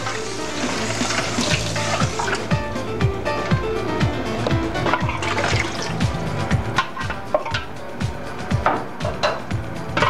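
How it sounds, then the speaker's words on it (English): Water poured from a tap into a cooking pot holding leftover tomatoes, a continuous splashing, gurgling stream that runs for about ten seconds, close and fairly loud, with no talking. "And then I take the tomatoes that were left in here, put that water in."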